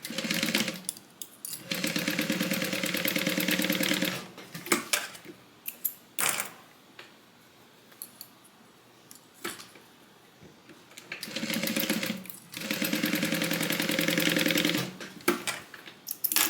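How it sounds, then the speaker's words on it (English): A sewing machine stitches a 3/8 inch seam on a Soraya divider bag, its motor humming in steady rapid bursts of several seconds each, with short pauses and fabric handling between runs. "we're going to sew that down with a 3/8 inch seam allowance"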